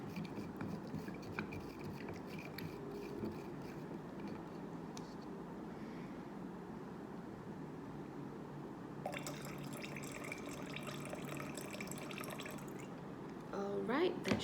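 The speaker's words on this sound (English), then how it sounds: "it's time to pour it into the jar" Paint-coloured water poured into a jar, a soft continuous trickling and gurgling with faint drips, fairly quiet and close, with a brief louder splash near the end.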